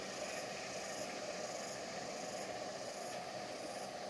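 A cement freight train halts at a signal at Ijo station in Kebumen, giving a steady, distant rail hiss and rumble with brake noise, faint and continuous throughout.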